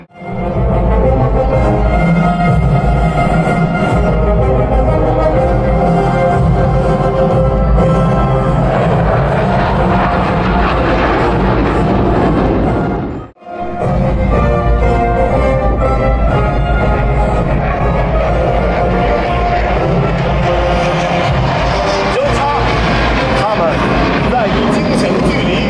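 PLAAF Ba Yi aerobatic team fighter jets flying a loop at Singapore Airshow 2020, a loud, sustained roar with a brief dip midway, with a commentator talking over it.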